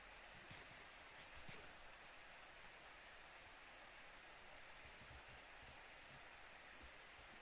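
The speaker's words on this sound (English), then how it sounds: "That rain is really annoying." Rain in Minecraft with the Witherstorm mod makes a faint, steady, even hiss throughout, with no other sounds over it.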